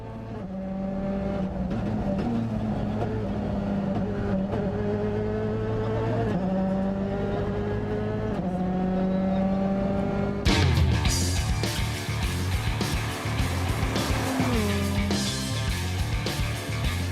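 A Ford Fiesta WRC rally car on a stage of the Rallye Lyon Charbonnières-Rhône, its engine note rising and falling through gear changes, then a louder, harsher burst as it comes close, with no talk.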